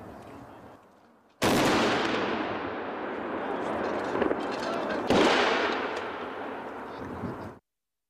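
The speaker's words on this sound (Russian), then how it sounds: "Из 30 залпов, которые прозвучат 9 мая, сегодня звучало всего лишь 5." Heavy artillery salute volleys in a Victory Day rehearsal: a sudden loud boom rolls into a long, rumbling echo, then a second blast lands midway. Crowd voices are faintly audible under the roar.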